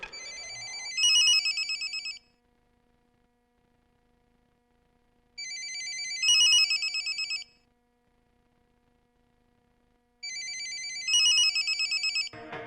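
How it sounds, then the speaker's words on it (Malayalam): A telephone rings again and again from repeated missed calls, giving three bursts of electronic ringing with a few seconds of silence between them. The ringing is clear and moderately loud, with no speech. "ആ ടെലിഫോൺ എടുത്ത് അവന് മിസ് കോൾ കൊടുക്ക്"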